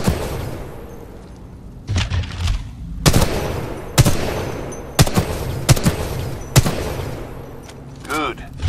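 Single gunshots ring out at a firing range in the Titanfall 2 campaign, about seven sharp, evenly spaced cracks close at hand, with brief quieter gaps and faint mechanical handling sounds between them.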